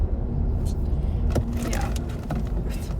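Steady low road rumble fills a car's cabin while it drives home, with a couple of brief clicks or knocks standing out over the continuous hum.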